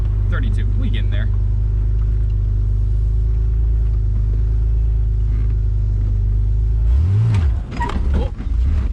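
A 1988 Chevy S10 five-speed pickup idles with a loud, steady low rumble close by, then the engine note rises and falls as it is revved near the end, with people talking over it.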